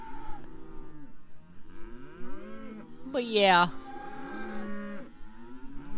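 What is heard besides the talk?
cattle mooing in a farm pen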